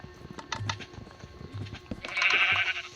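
Goat bleating in a video game, a few short nasal bleats spaced apart, followed by a brighter burst of game sound effects, fairly close and clear.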